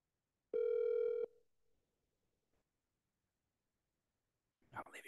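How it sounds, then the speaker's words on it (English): A telephone voicemail beep follows the greeting: one loud, steady electronic tone lasting under a second, then a short faint decay and near silence before brief voice sounds at the end. "Please leave a message after the tone."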